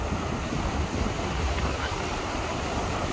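Steady wash of ocean surf at Meia Praia beach in Itapema, a broad continuous roar mixed with wind buffeting the microphone, with no clear individual wave crashes standing out.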